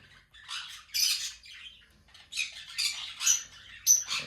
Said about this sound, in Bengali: ইয়েলো কলার এবং গ্রিন বিফারের লাভবার্ডের জোড়া এদিকে রয়েছে